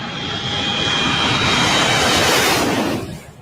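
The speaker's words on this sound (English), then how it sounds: "Now, is that a fighter jet?" A fighter jet engine roars loud and close, a broad sustained blast with a thin whine riding on top, holding strong before fading out sharply near the end; no talk over it.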